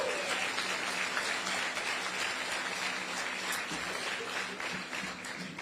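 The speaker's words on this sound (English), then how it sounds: "Give the governor a round of applause, if you will." An audience applauding a governor at a ferry terminal event, steady sustained clapping from a crowd that fills the clip and gently tapers near the end.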